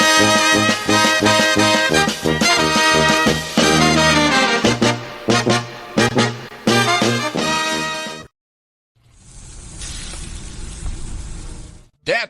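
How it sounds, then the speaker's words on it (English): Loud music plays, cuts out, then a steady hissing sizzle of dry-aged USDA Prime Wagyu and Angus steaks on a hot grill takes over for a few seconds. "That's the sound of sizzling, dry-aged USDA Prime Wagyu and Angus steaks"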